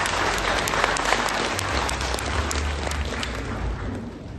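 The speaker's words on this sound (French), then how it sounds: "Est-ce qu'on peut l'applaudir?" A gala audience in Paris bursts into sustained applause, dense and fairly loud clapping from a large crowd with a low rumble of voices underneath.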